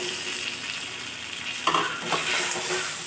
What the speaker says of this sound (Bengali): একটুখানি কষিয়ে নেব মশলার সঙ্গে মাথাগুলো